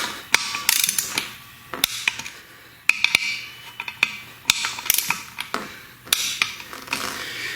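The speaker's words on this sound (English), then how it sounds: "I'm going to torque each one of these to 12 foot-pounds" Torque wrench clicking and ratcheting as it tightens the bolts of a Centramatic front wheel balancer in a star pattern, giving sharp mechanical clicks and creaks in an irregular series, close and fairly loud with no talking.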